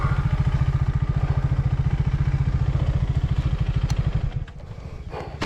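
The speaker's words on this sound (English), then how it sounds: "engine is still thumping" A KTM 250 Adventure motorcycle engine thumps steadily and loud during a race, a fast regular pulse that drops away abruptly near the end, leaving quieter clatter.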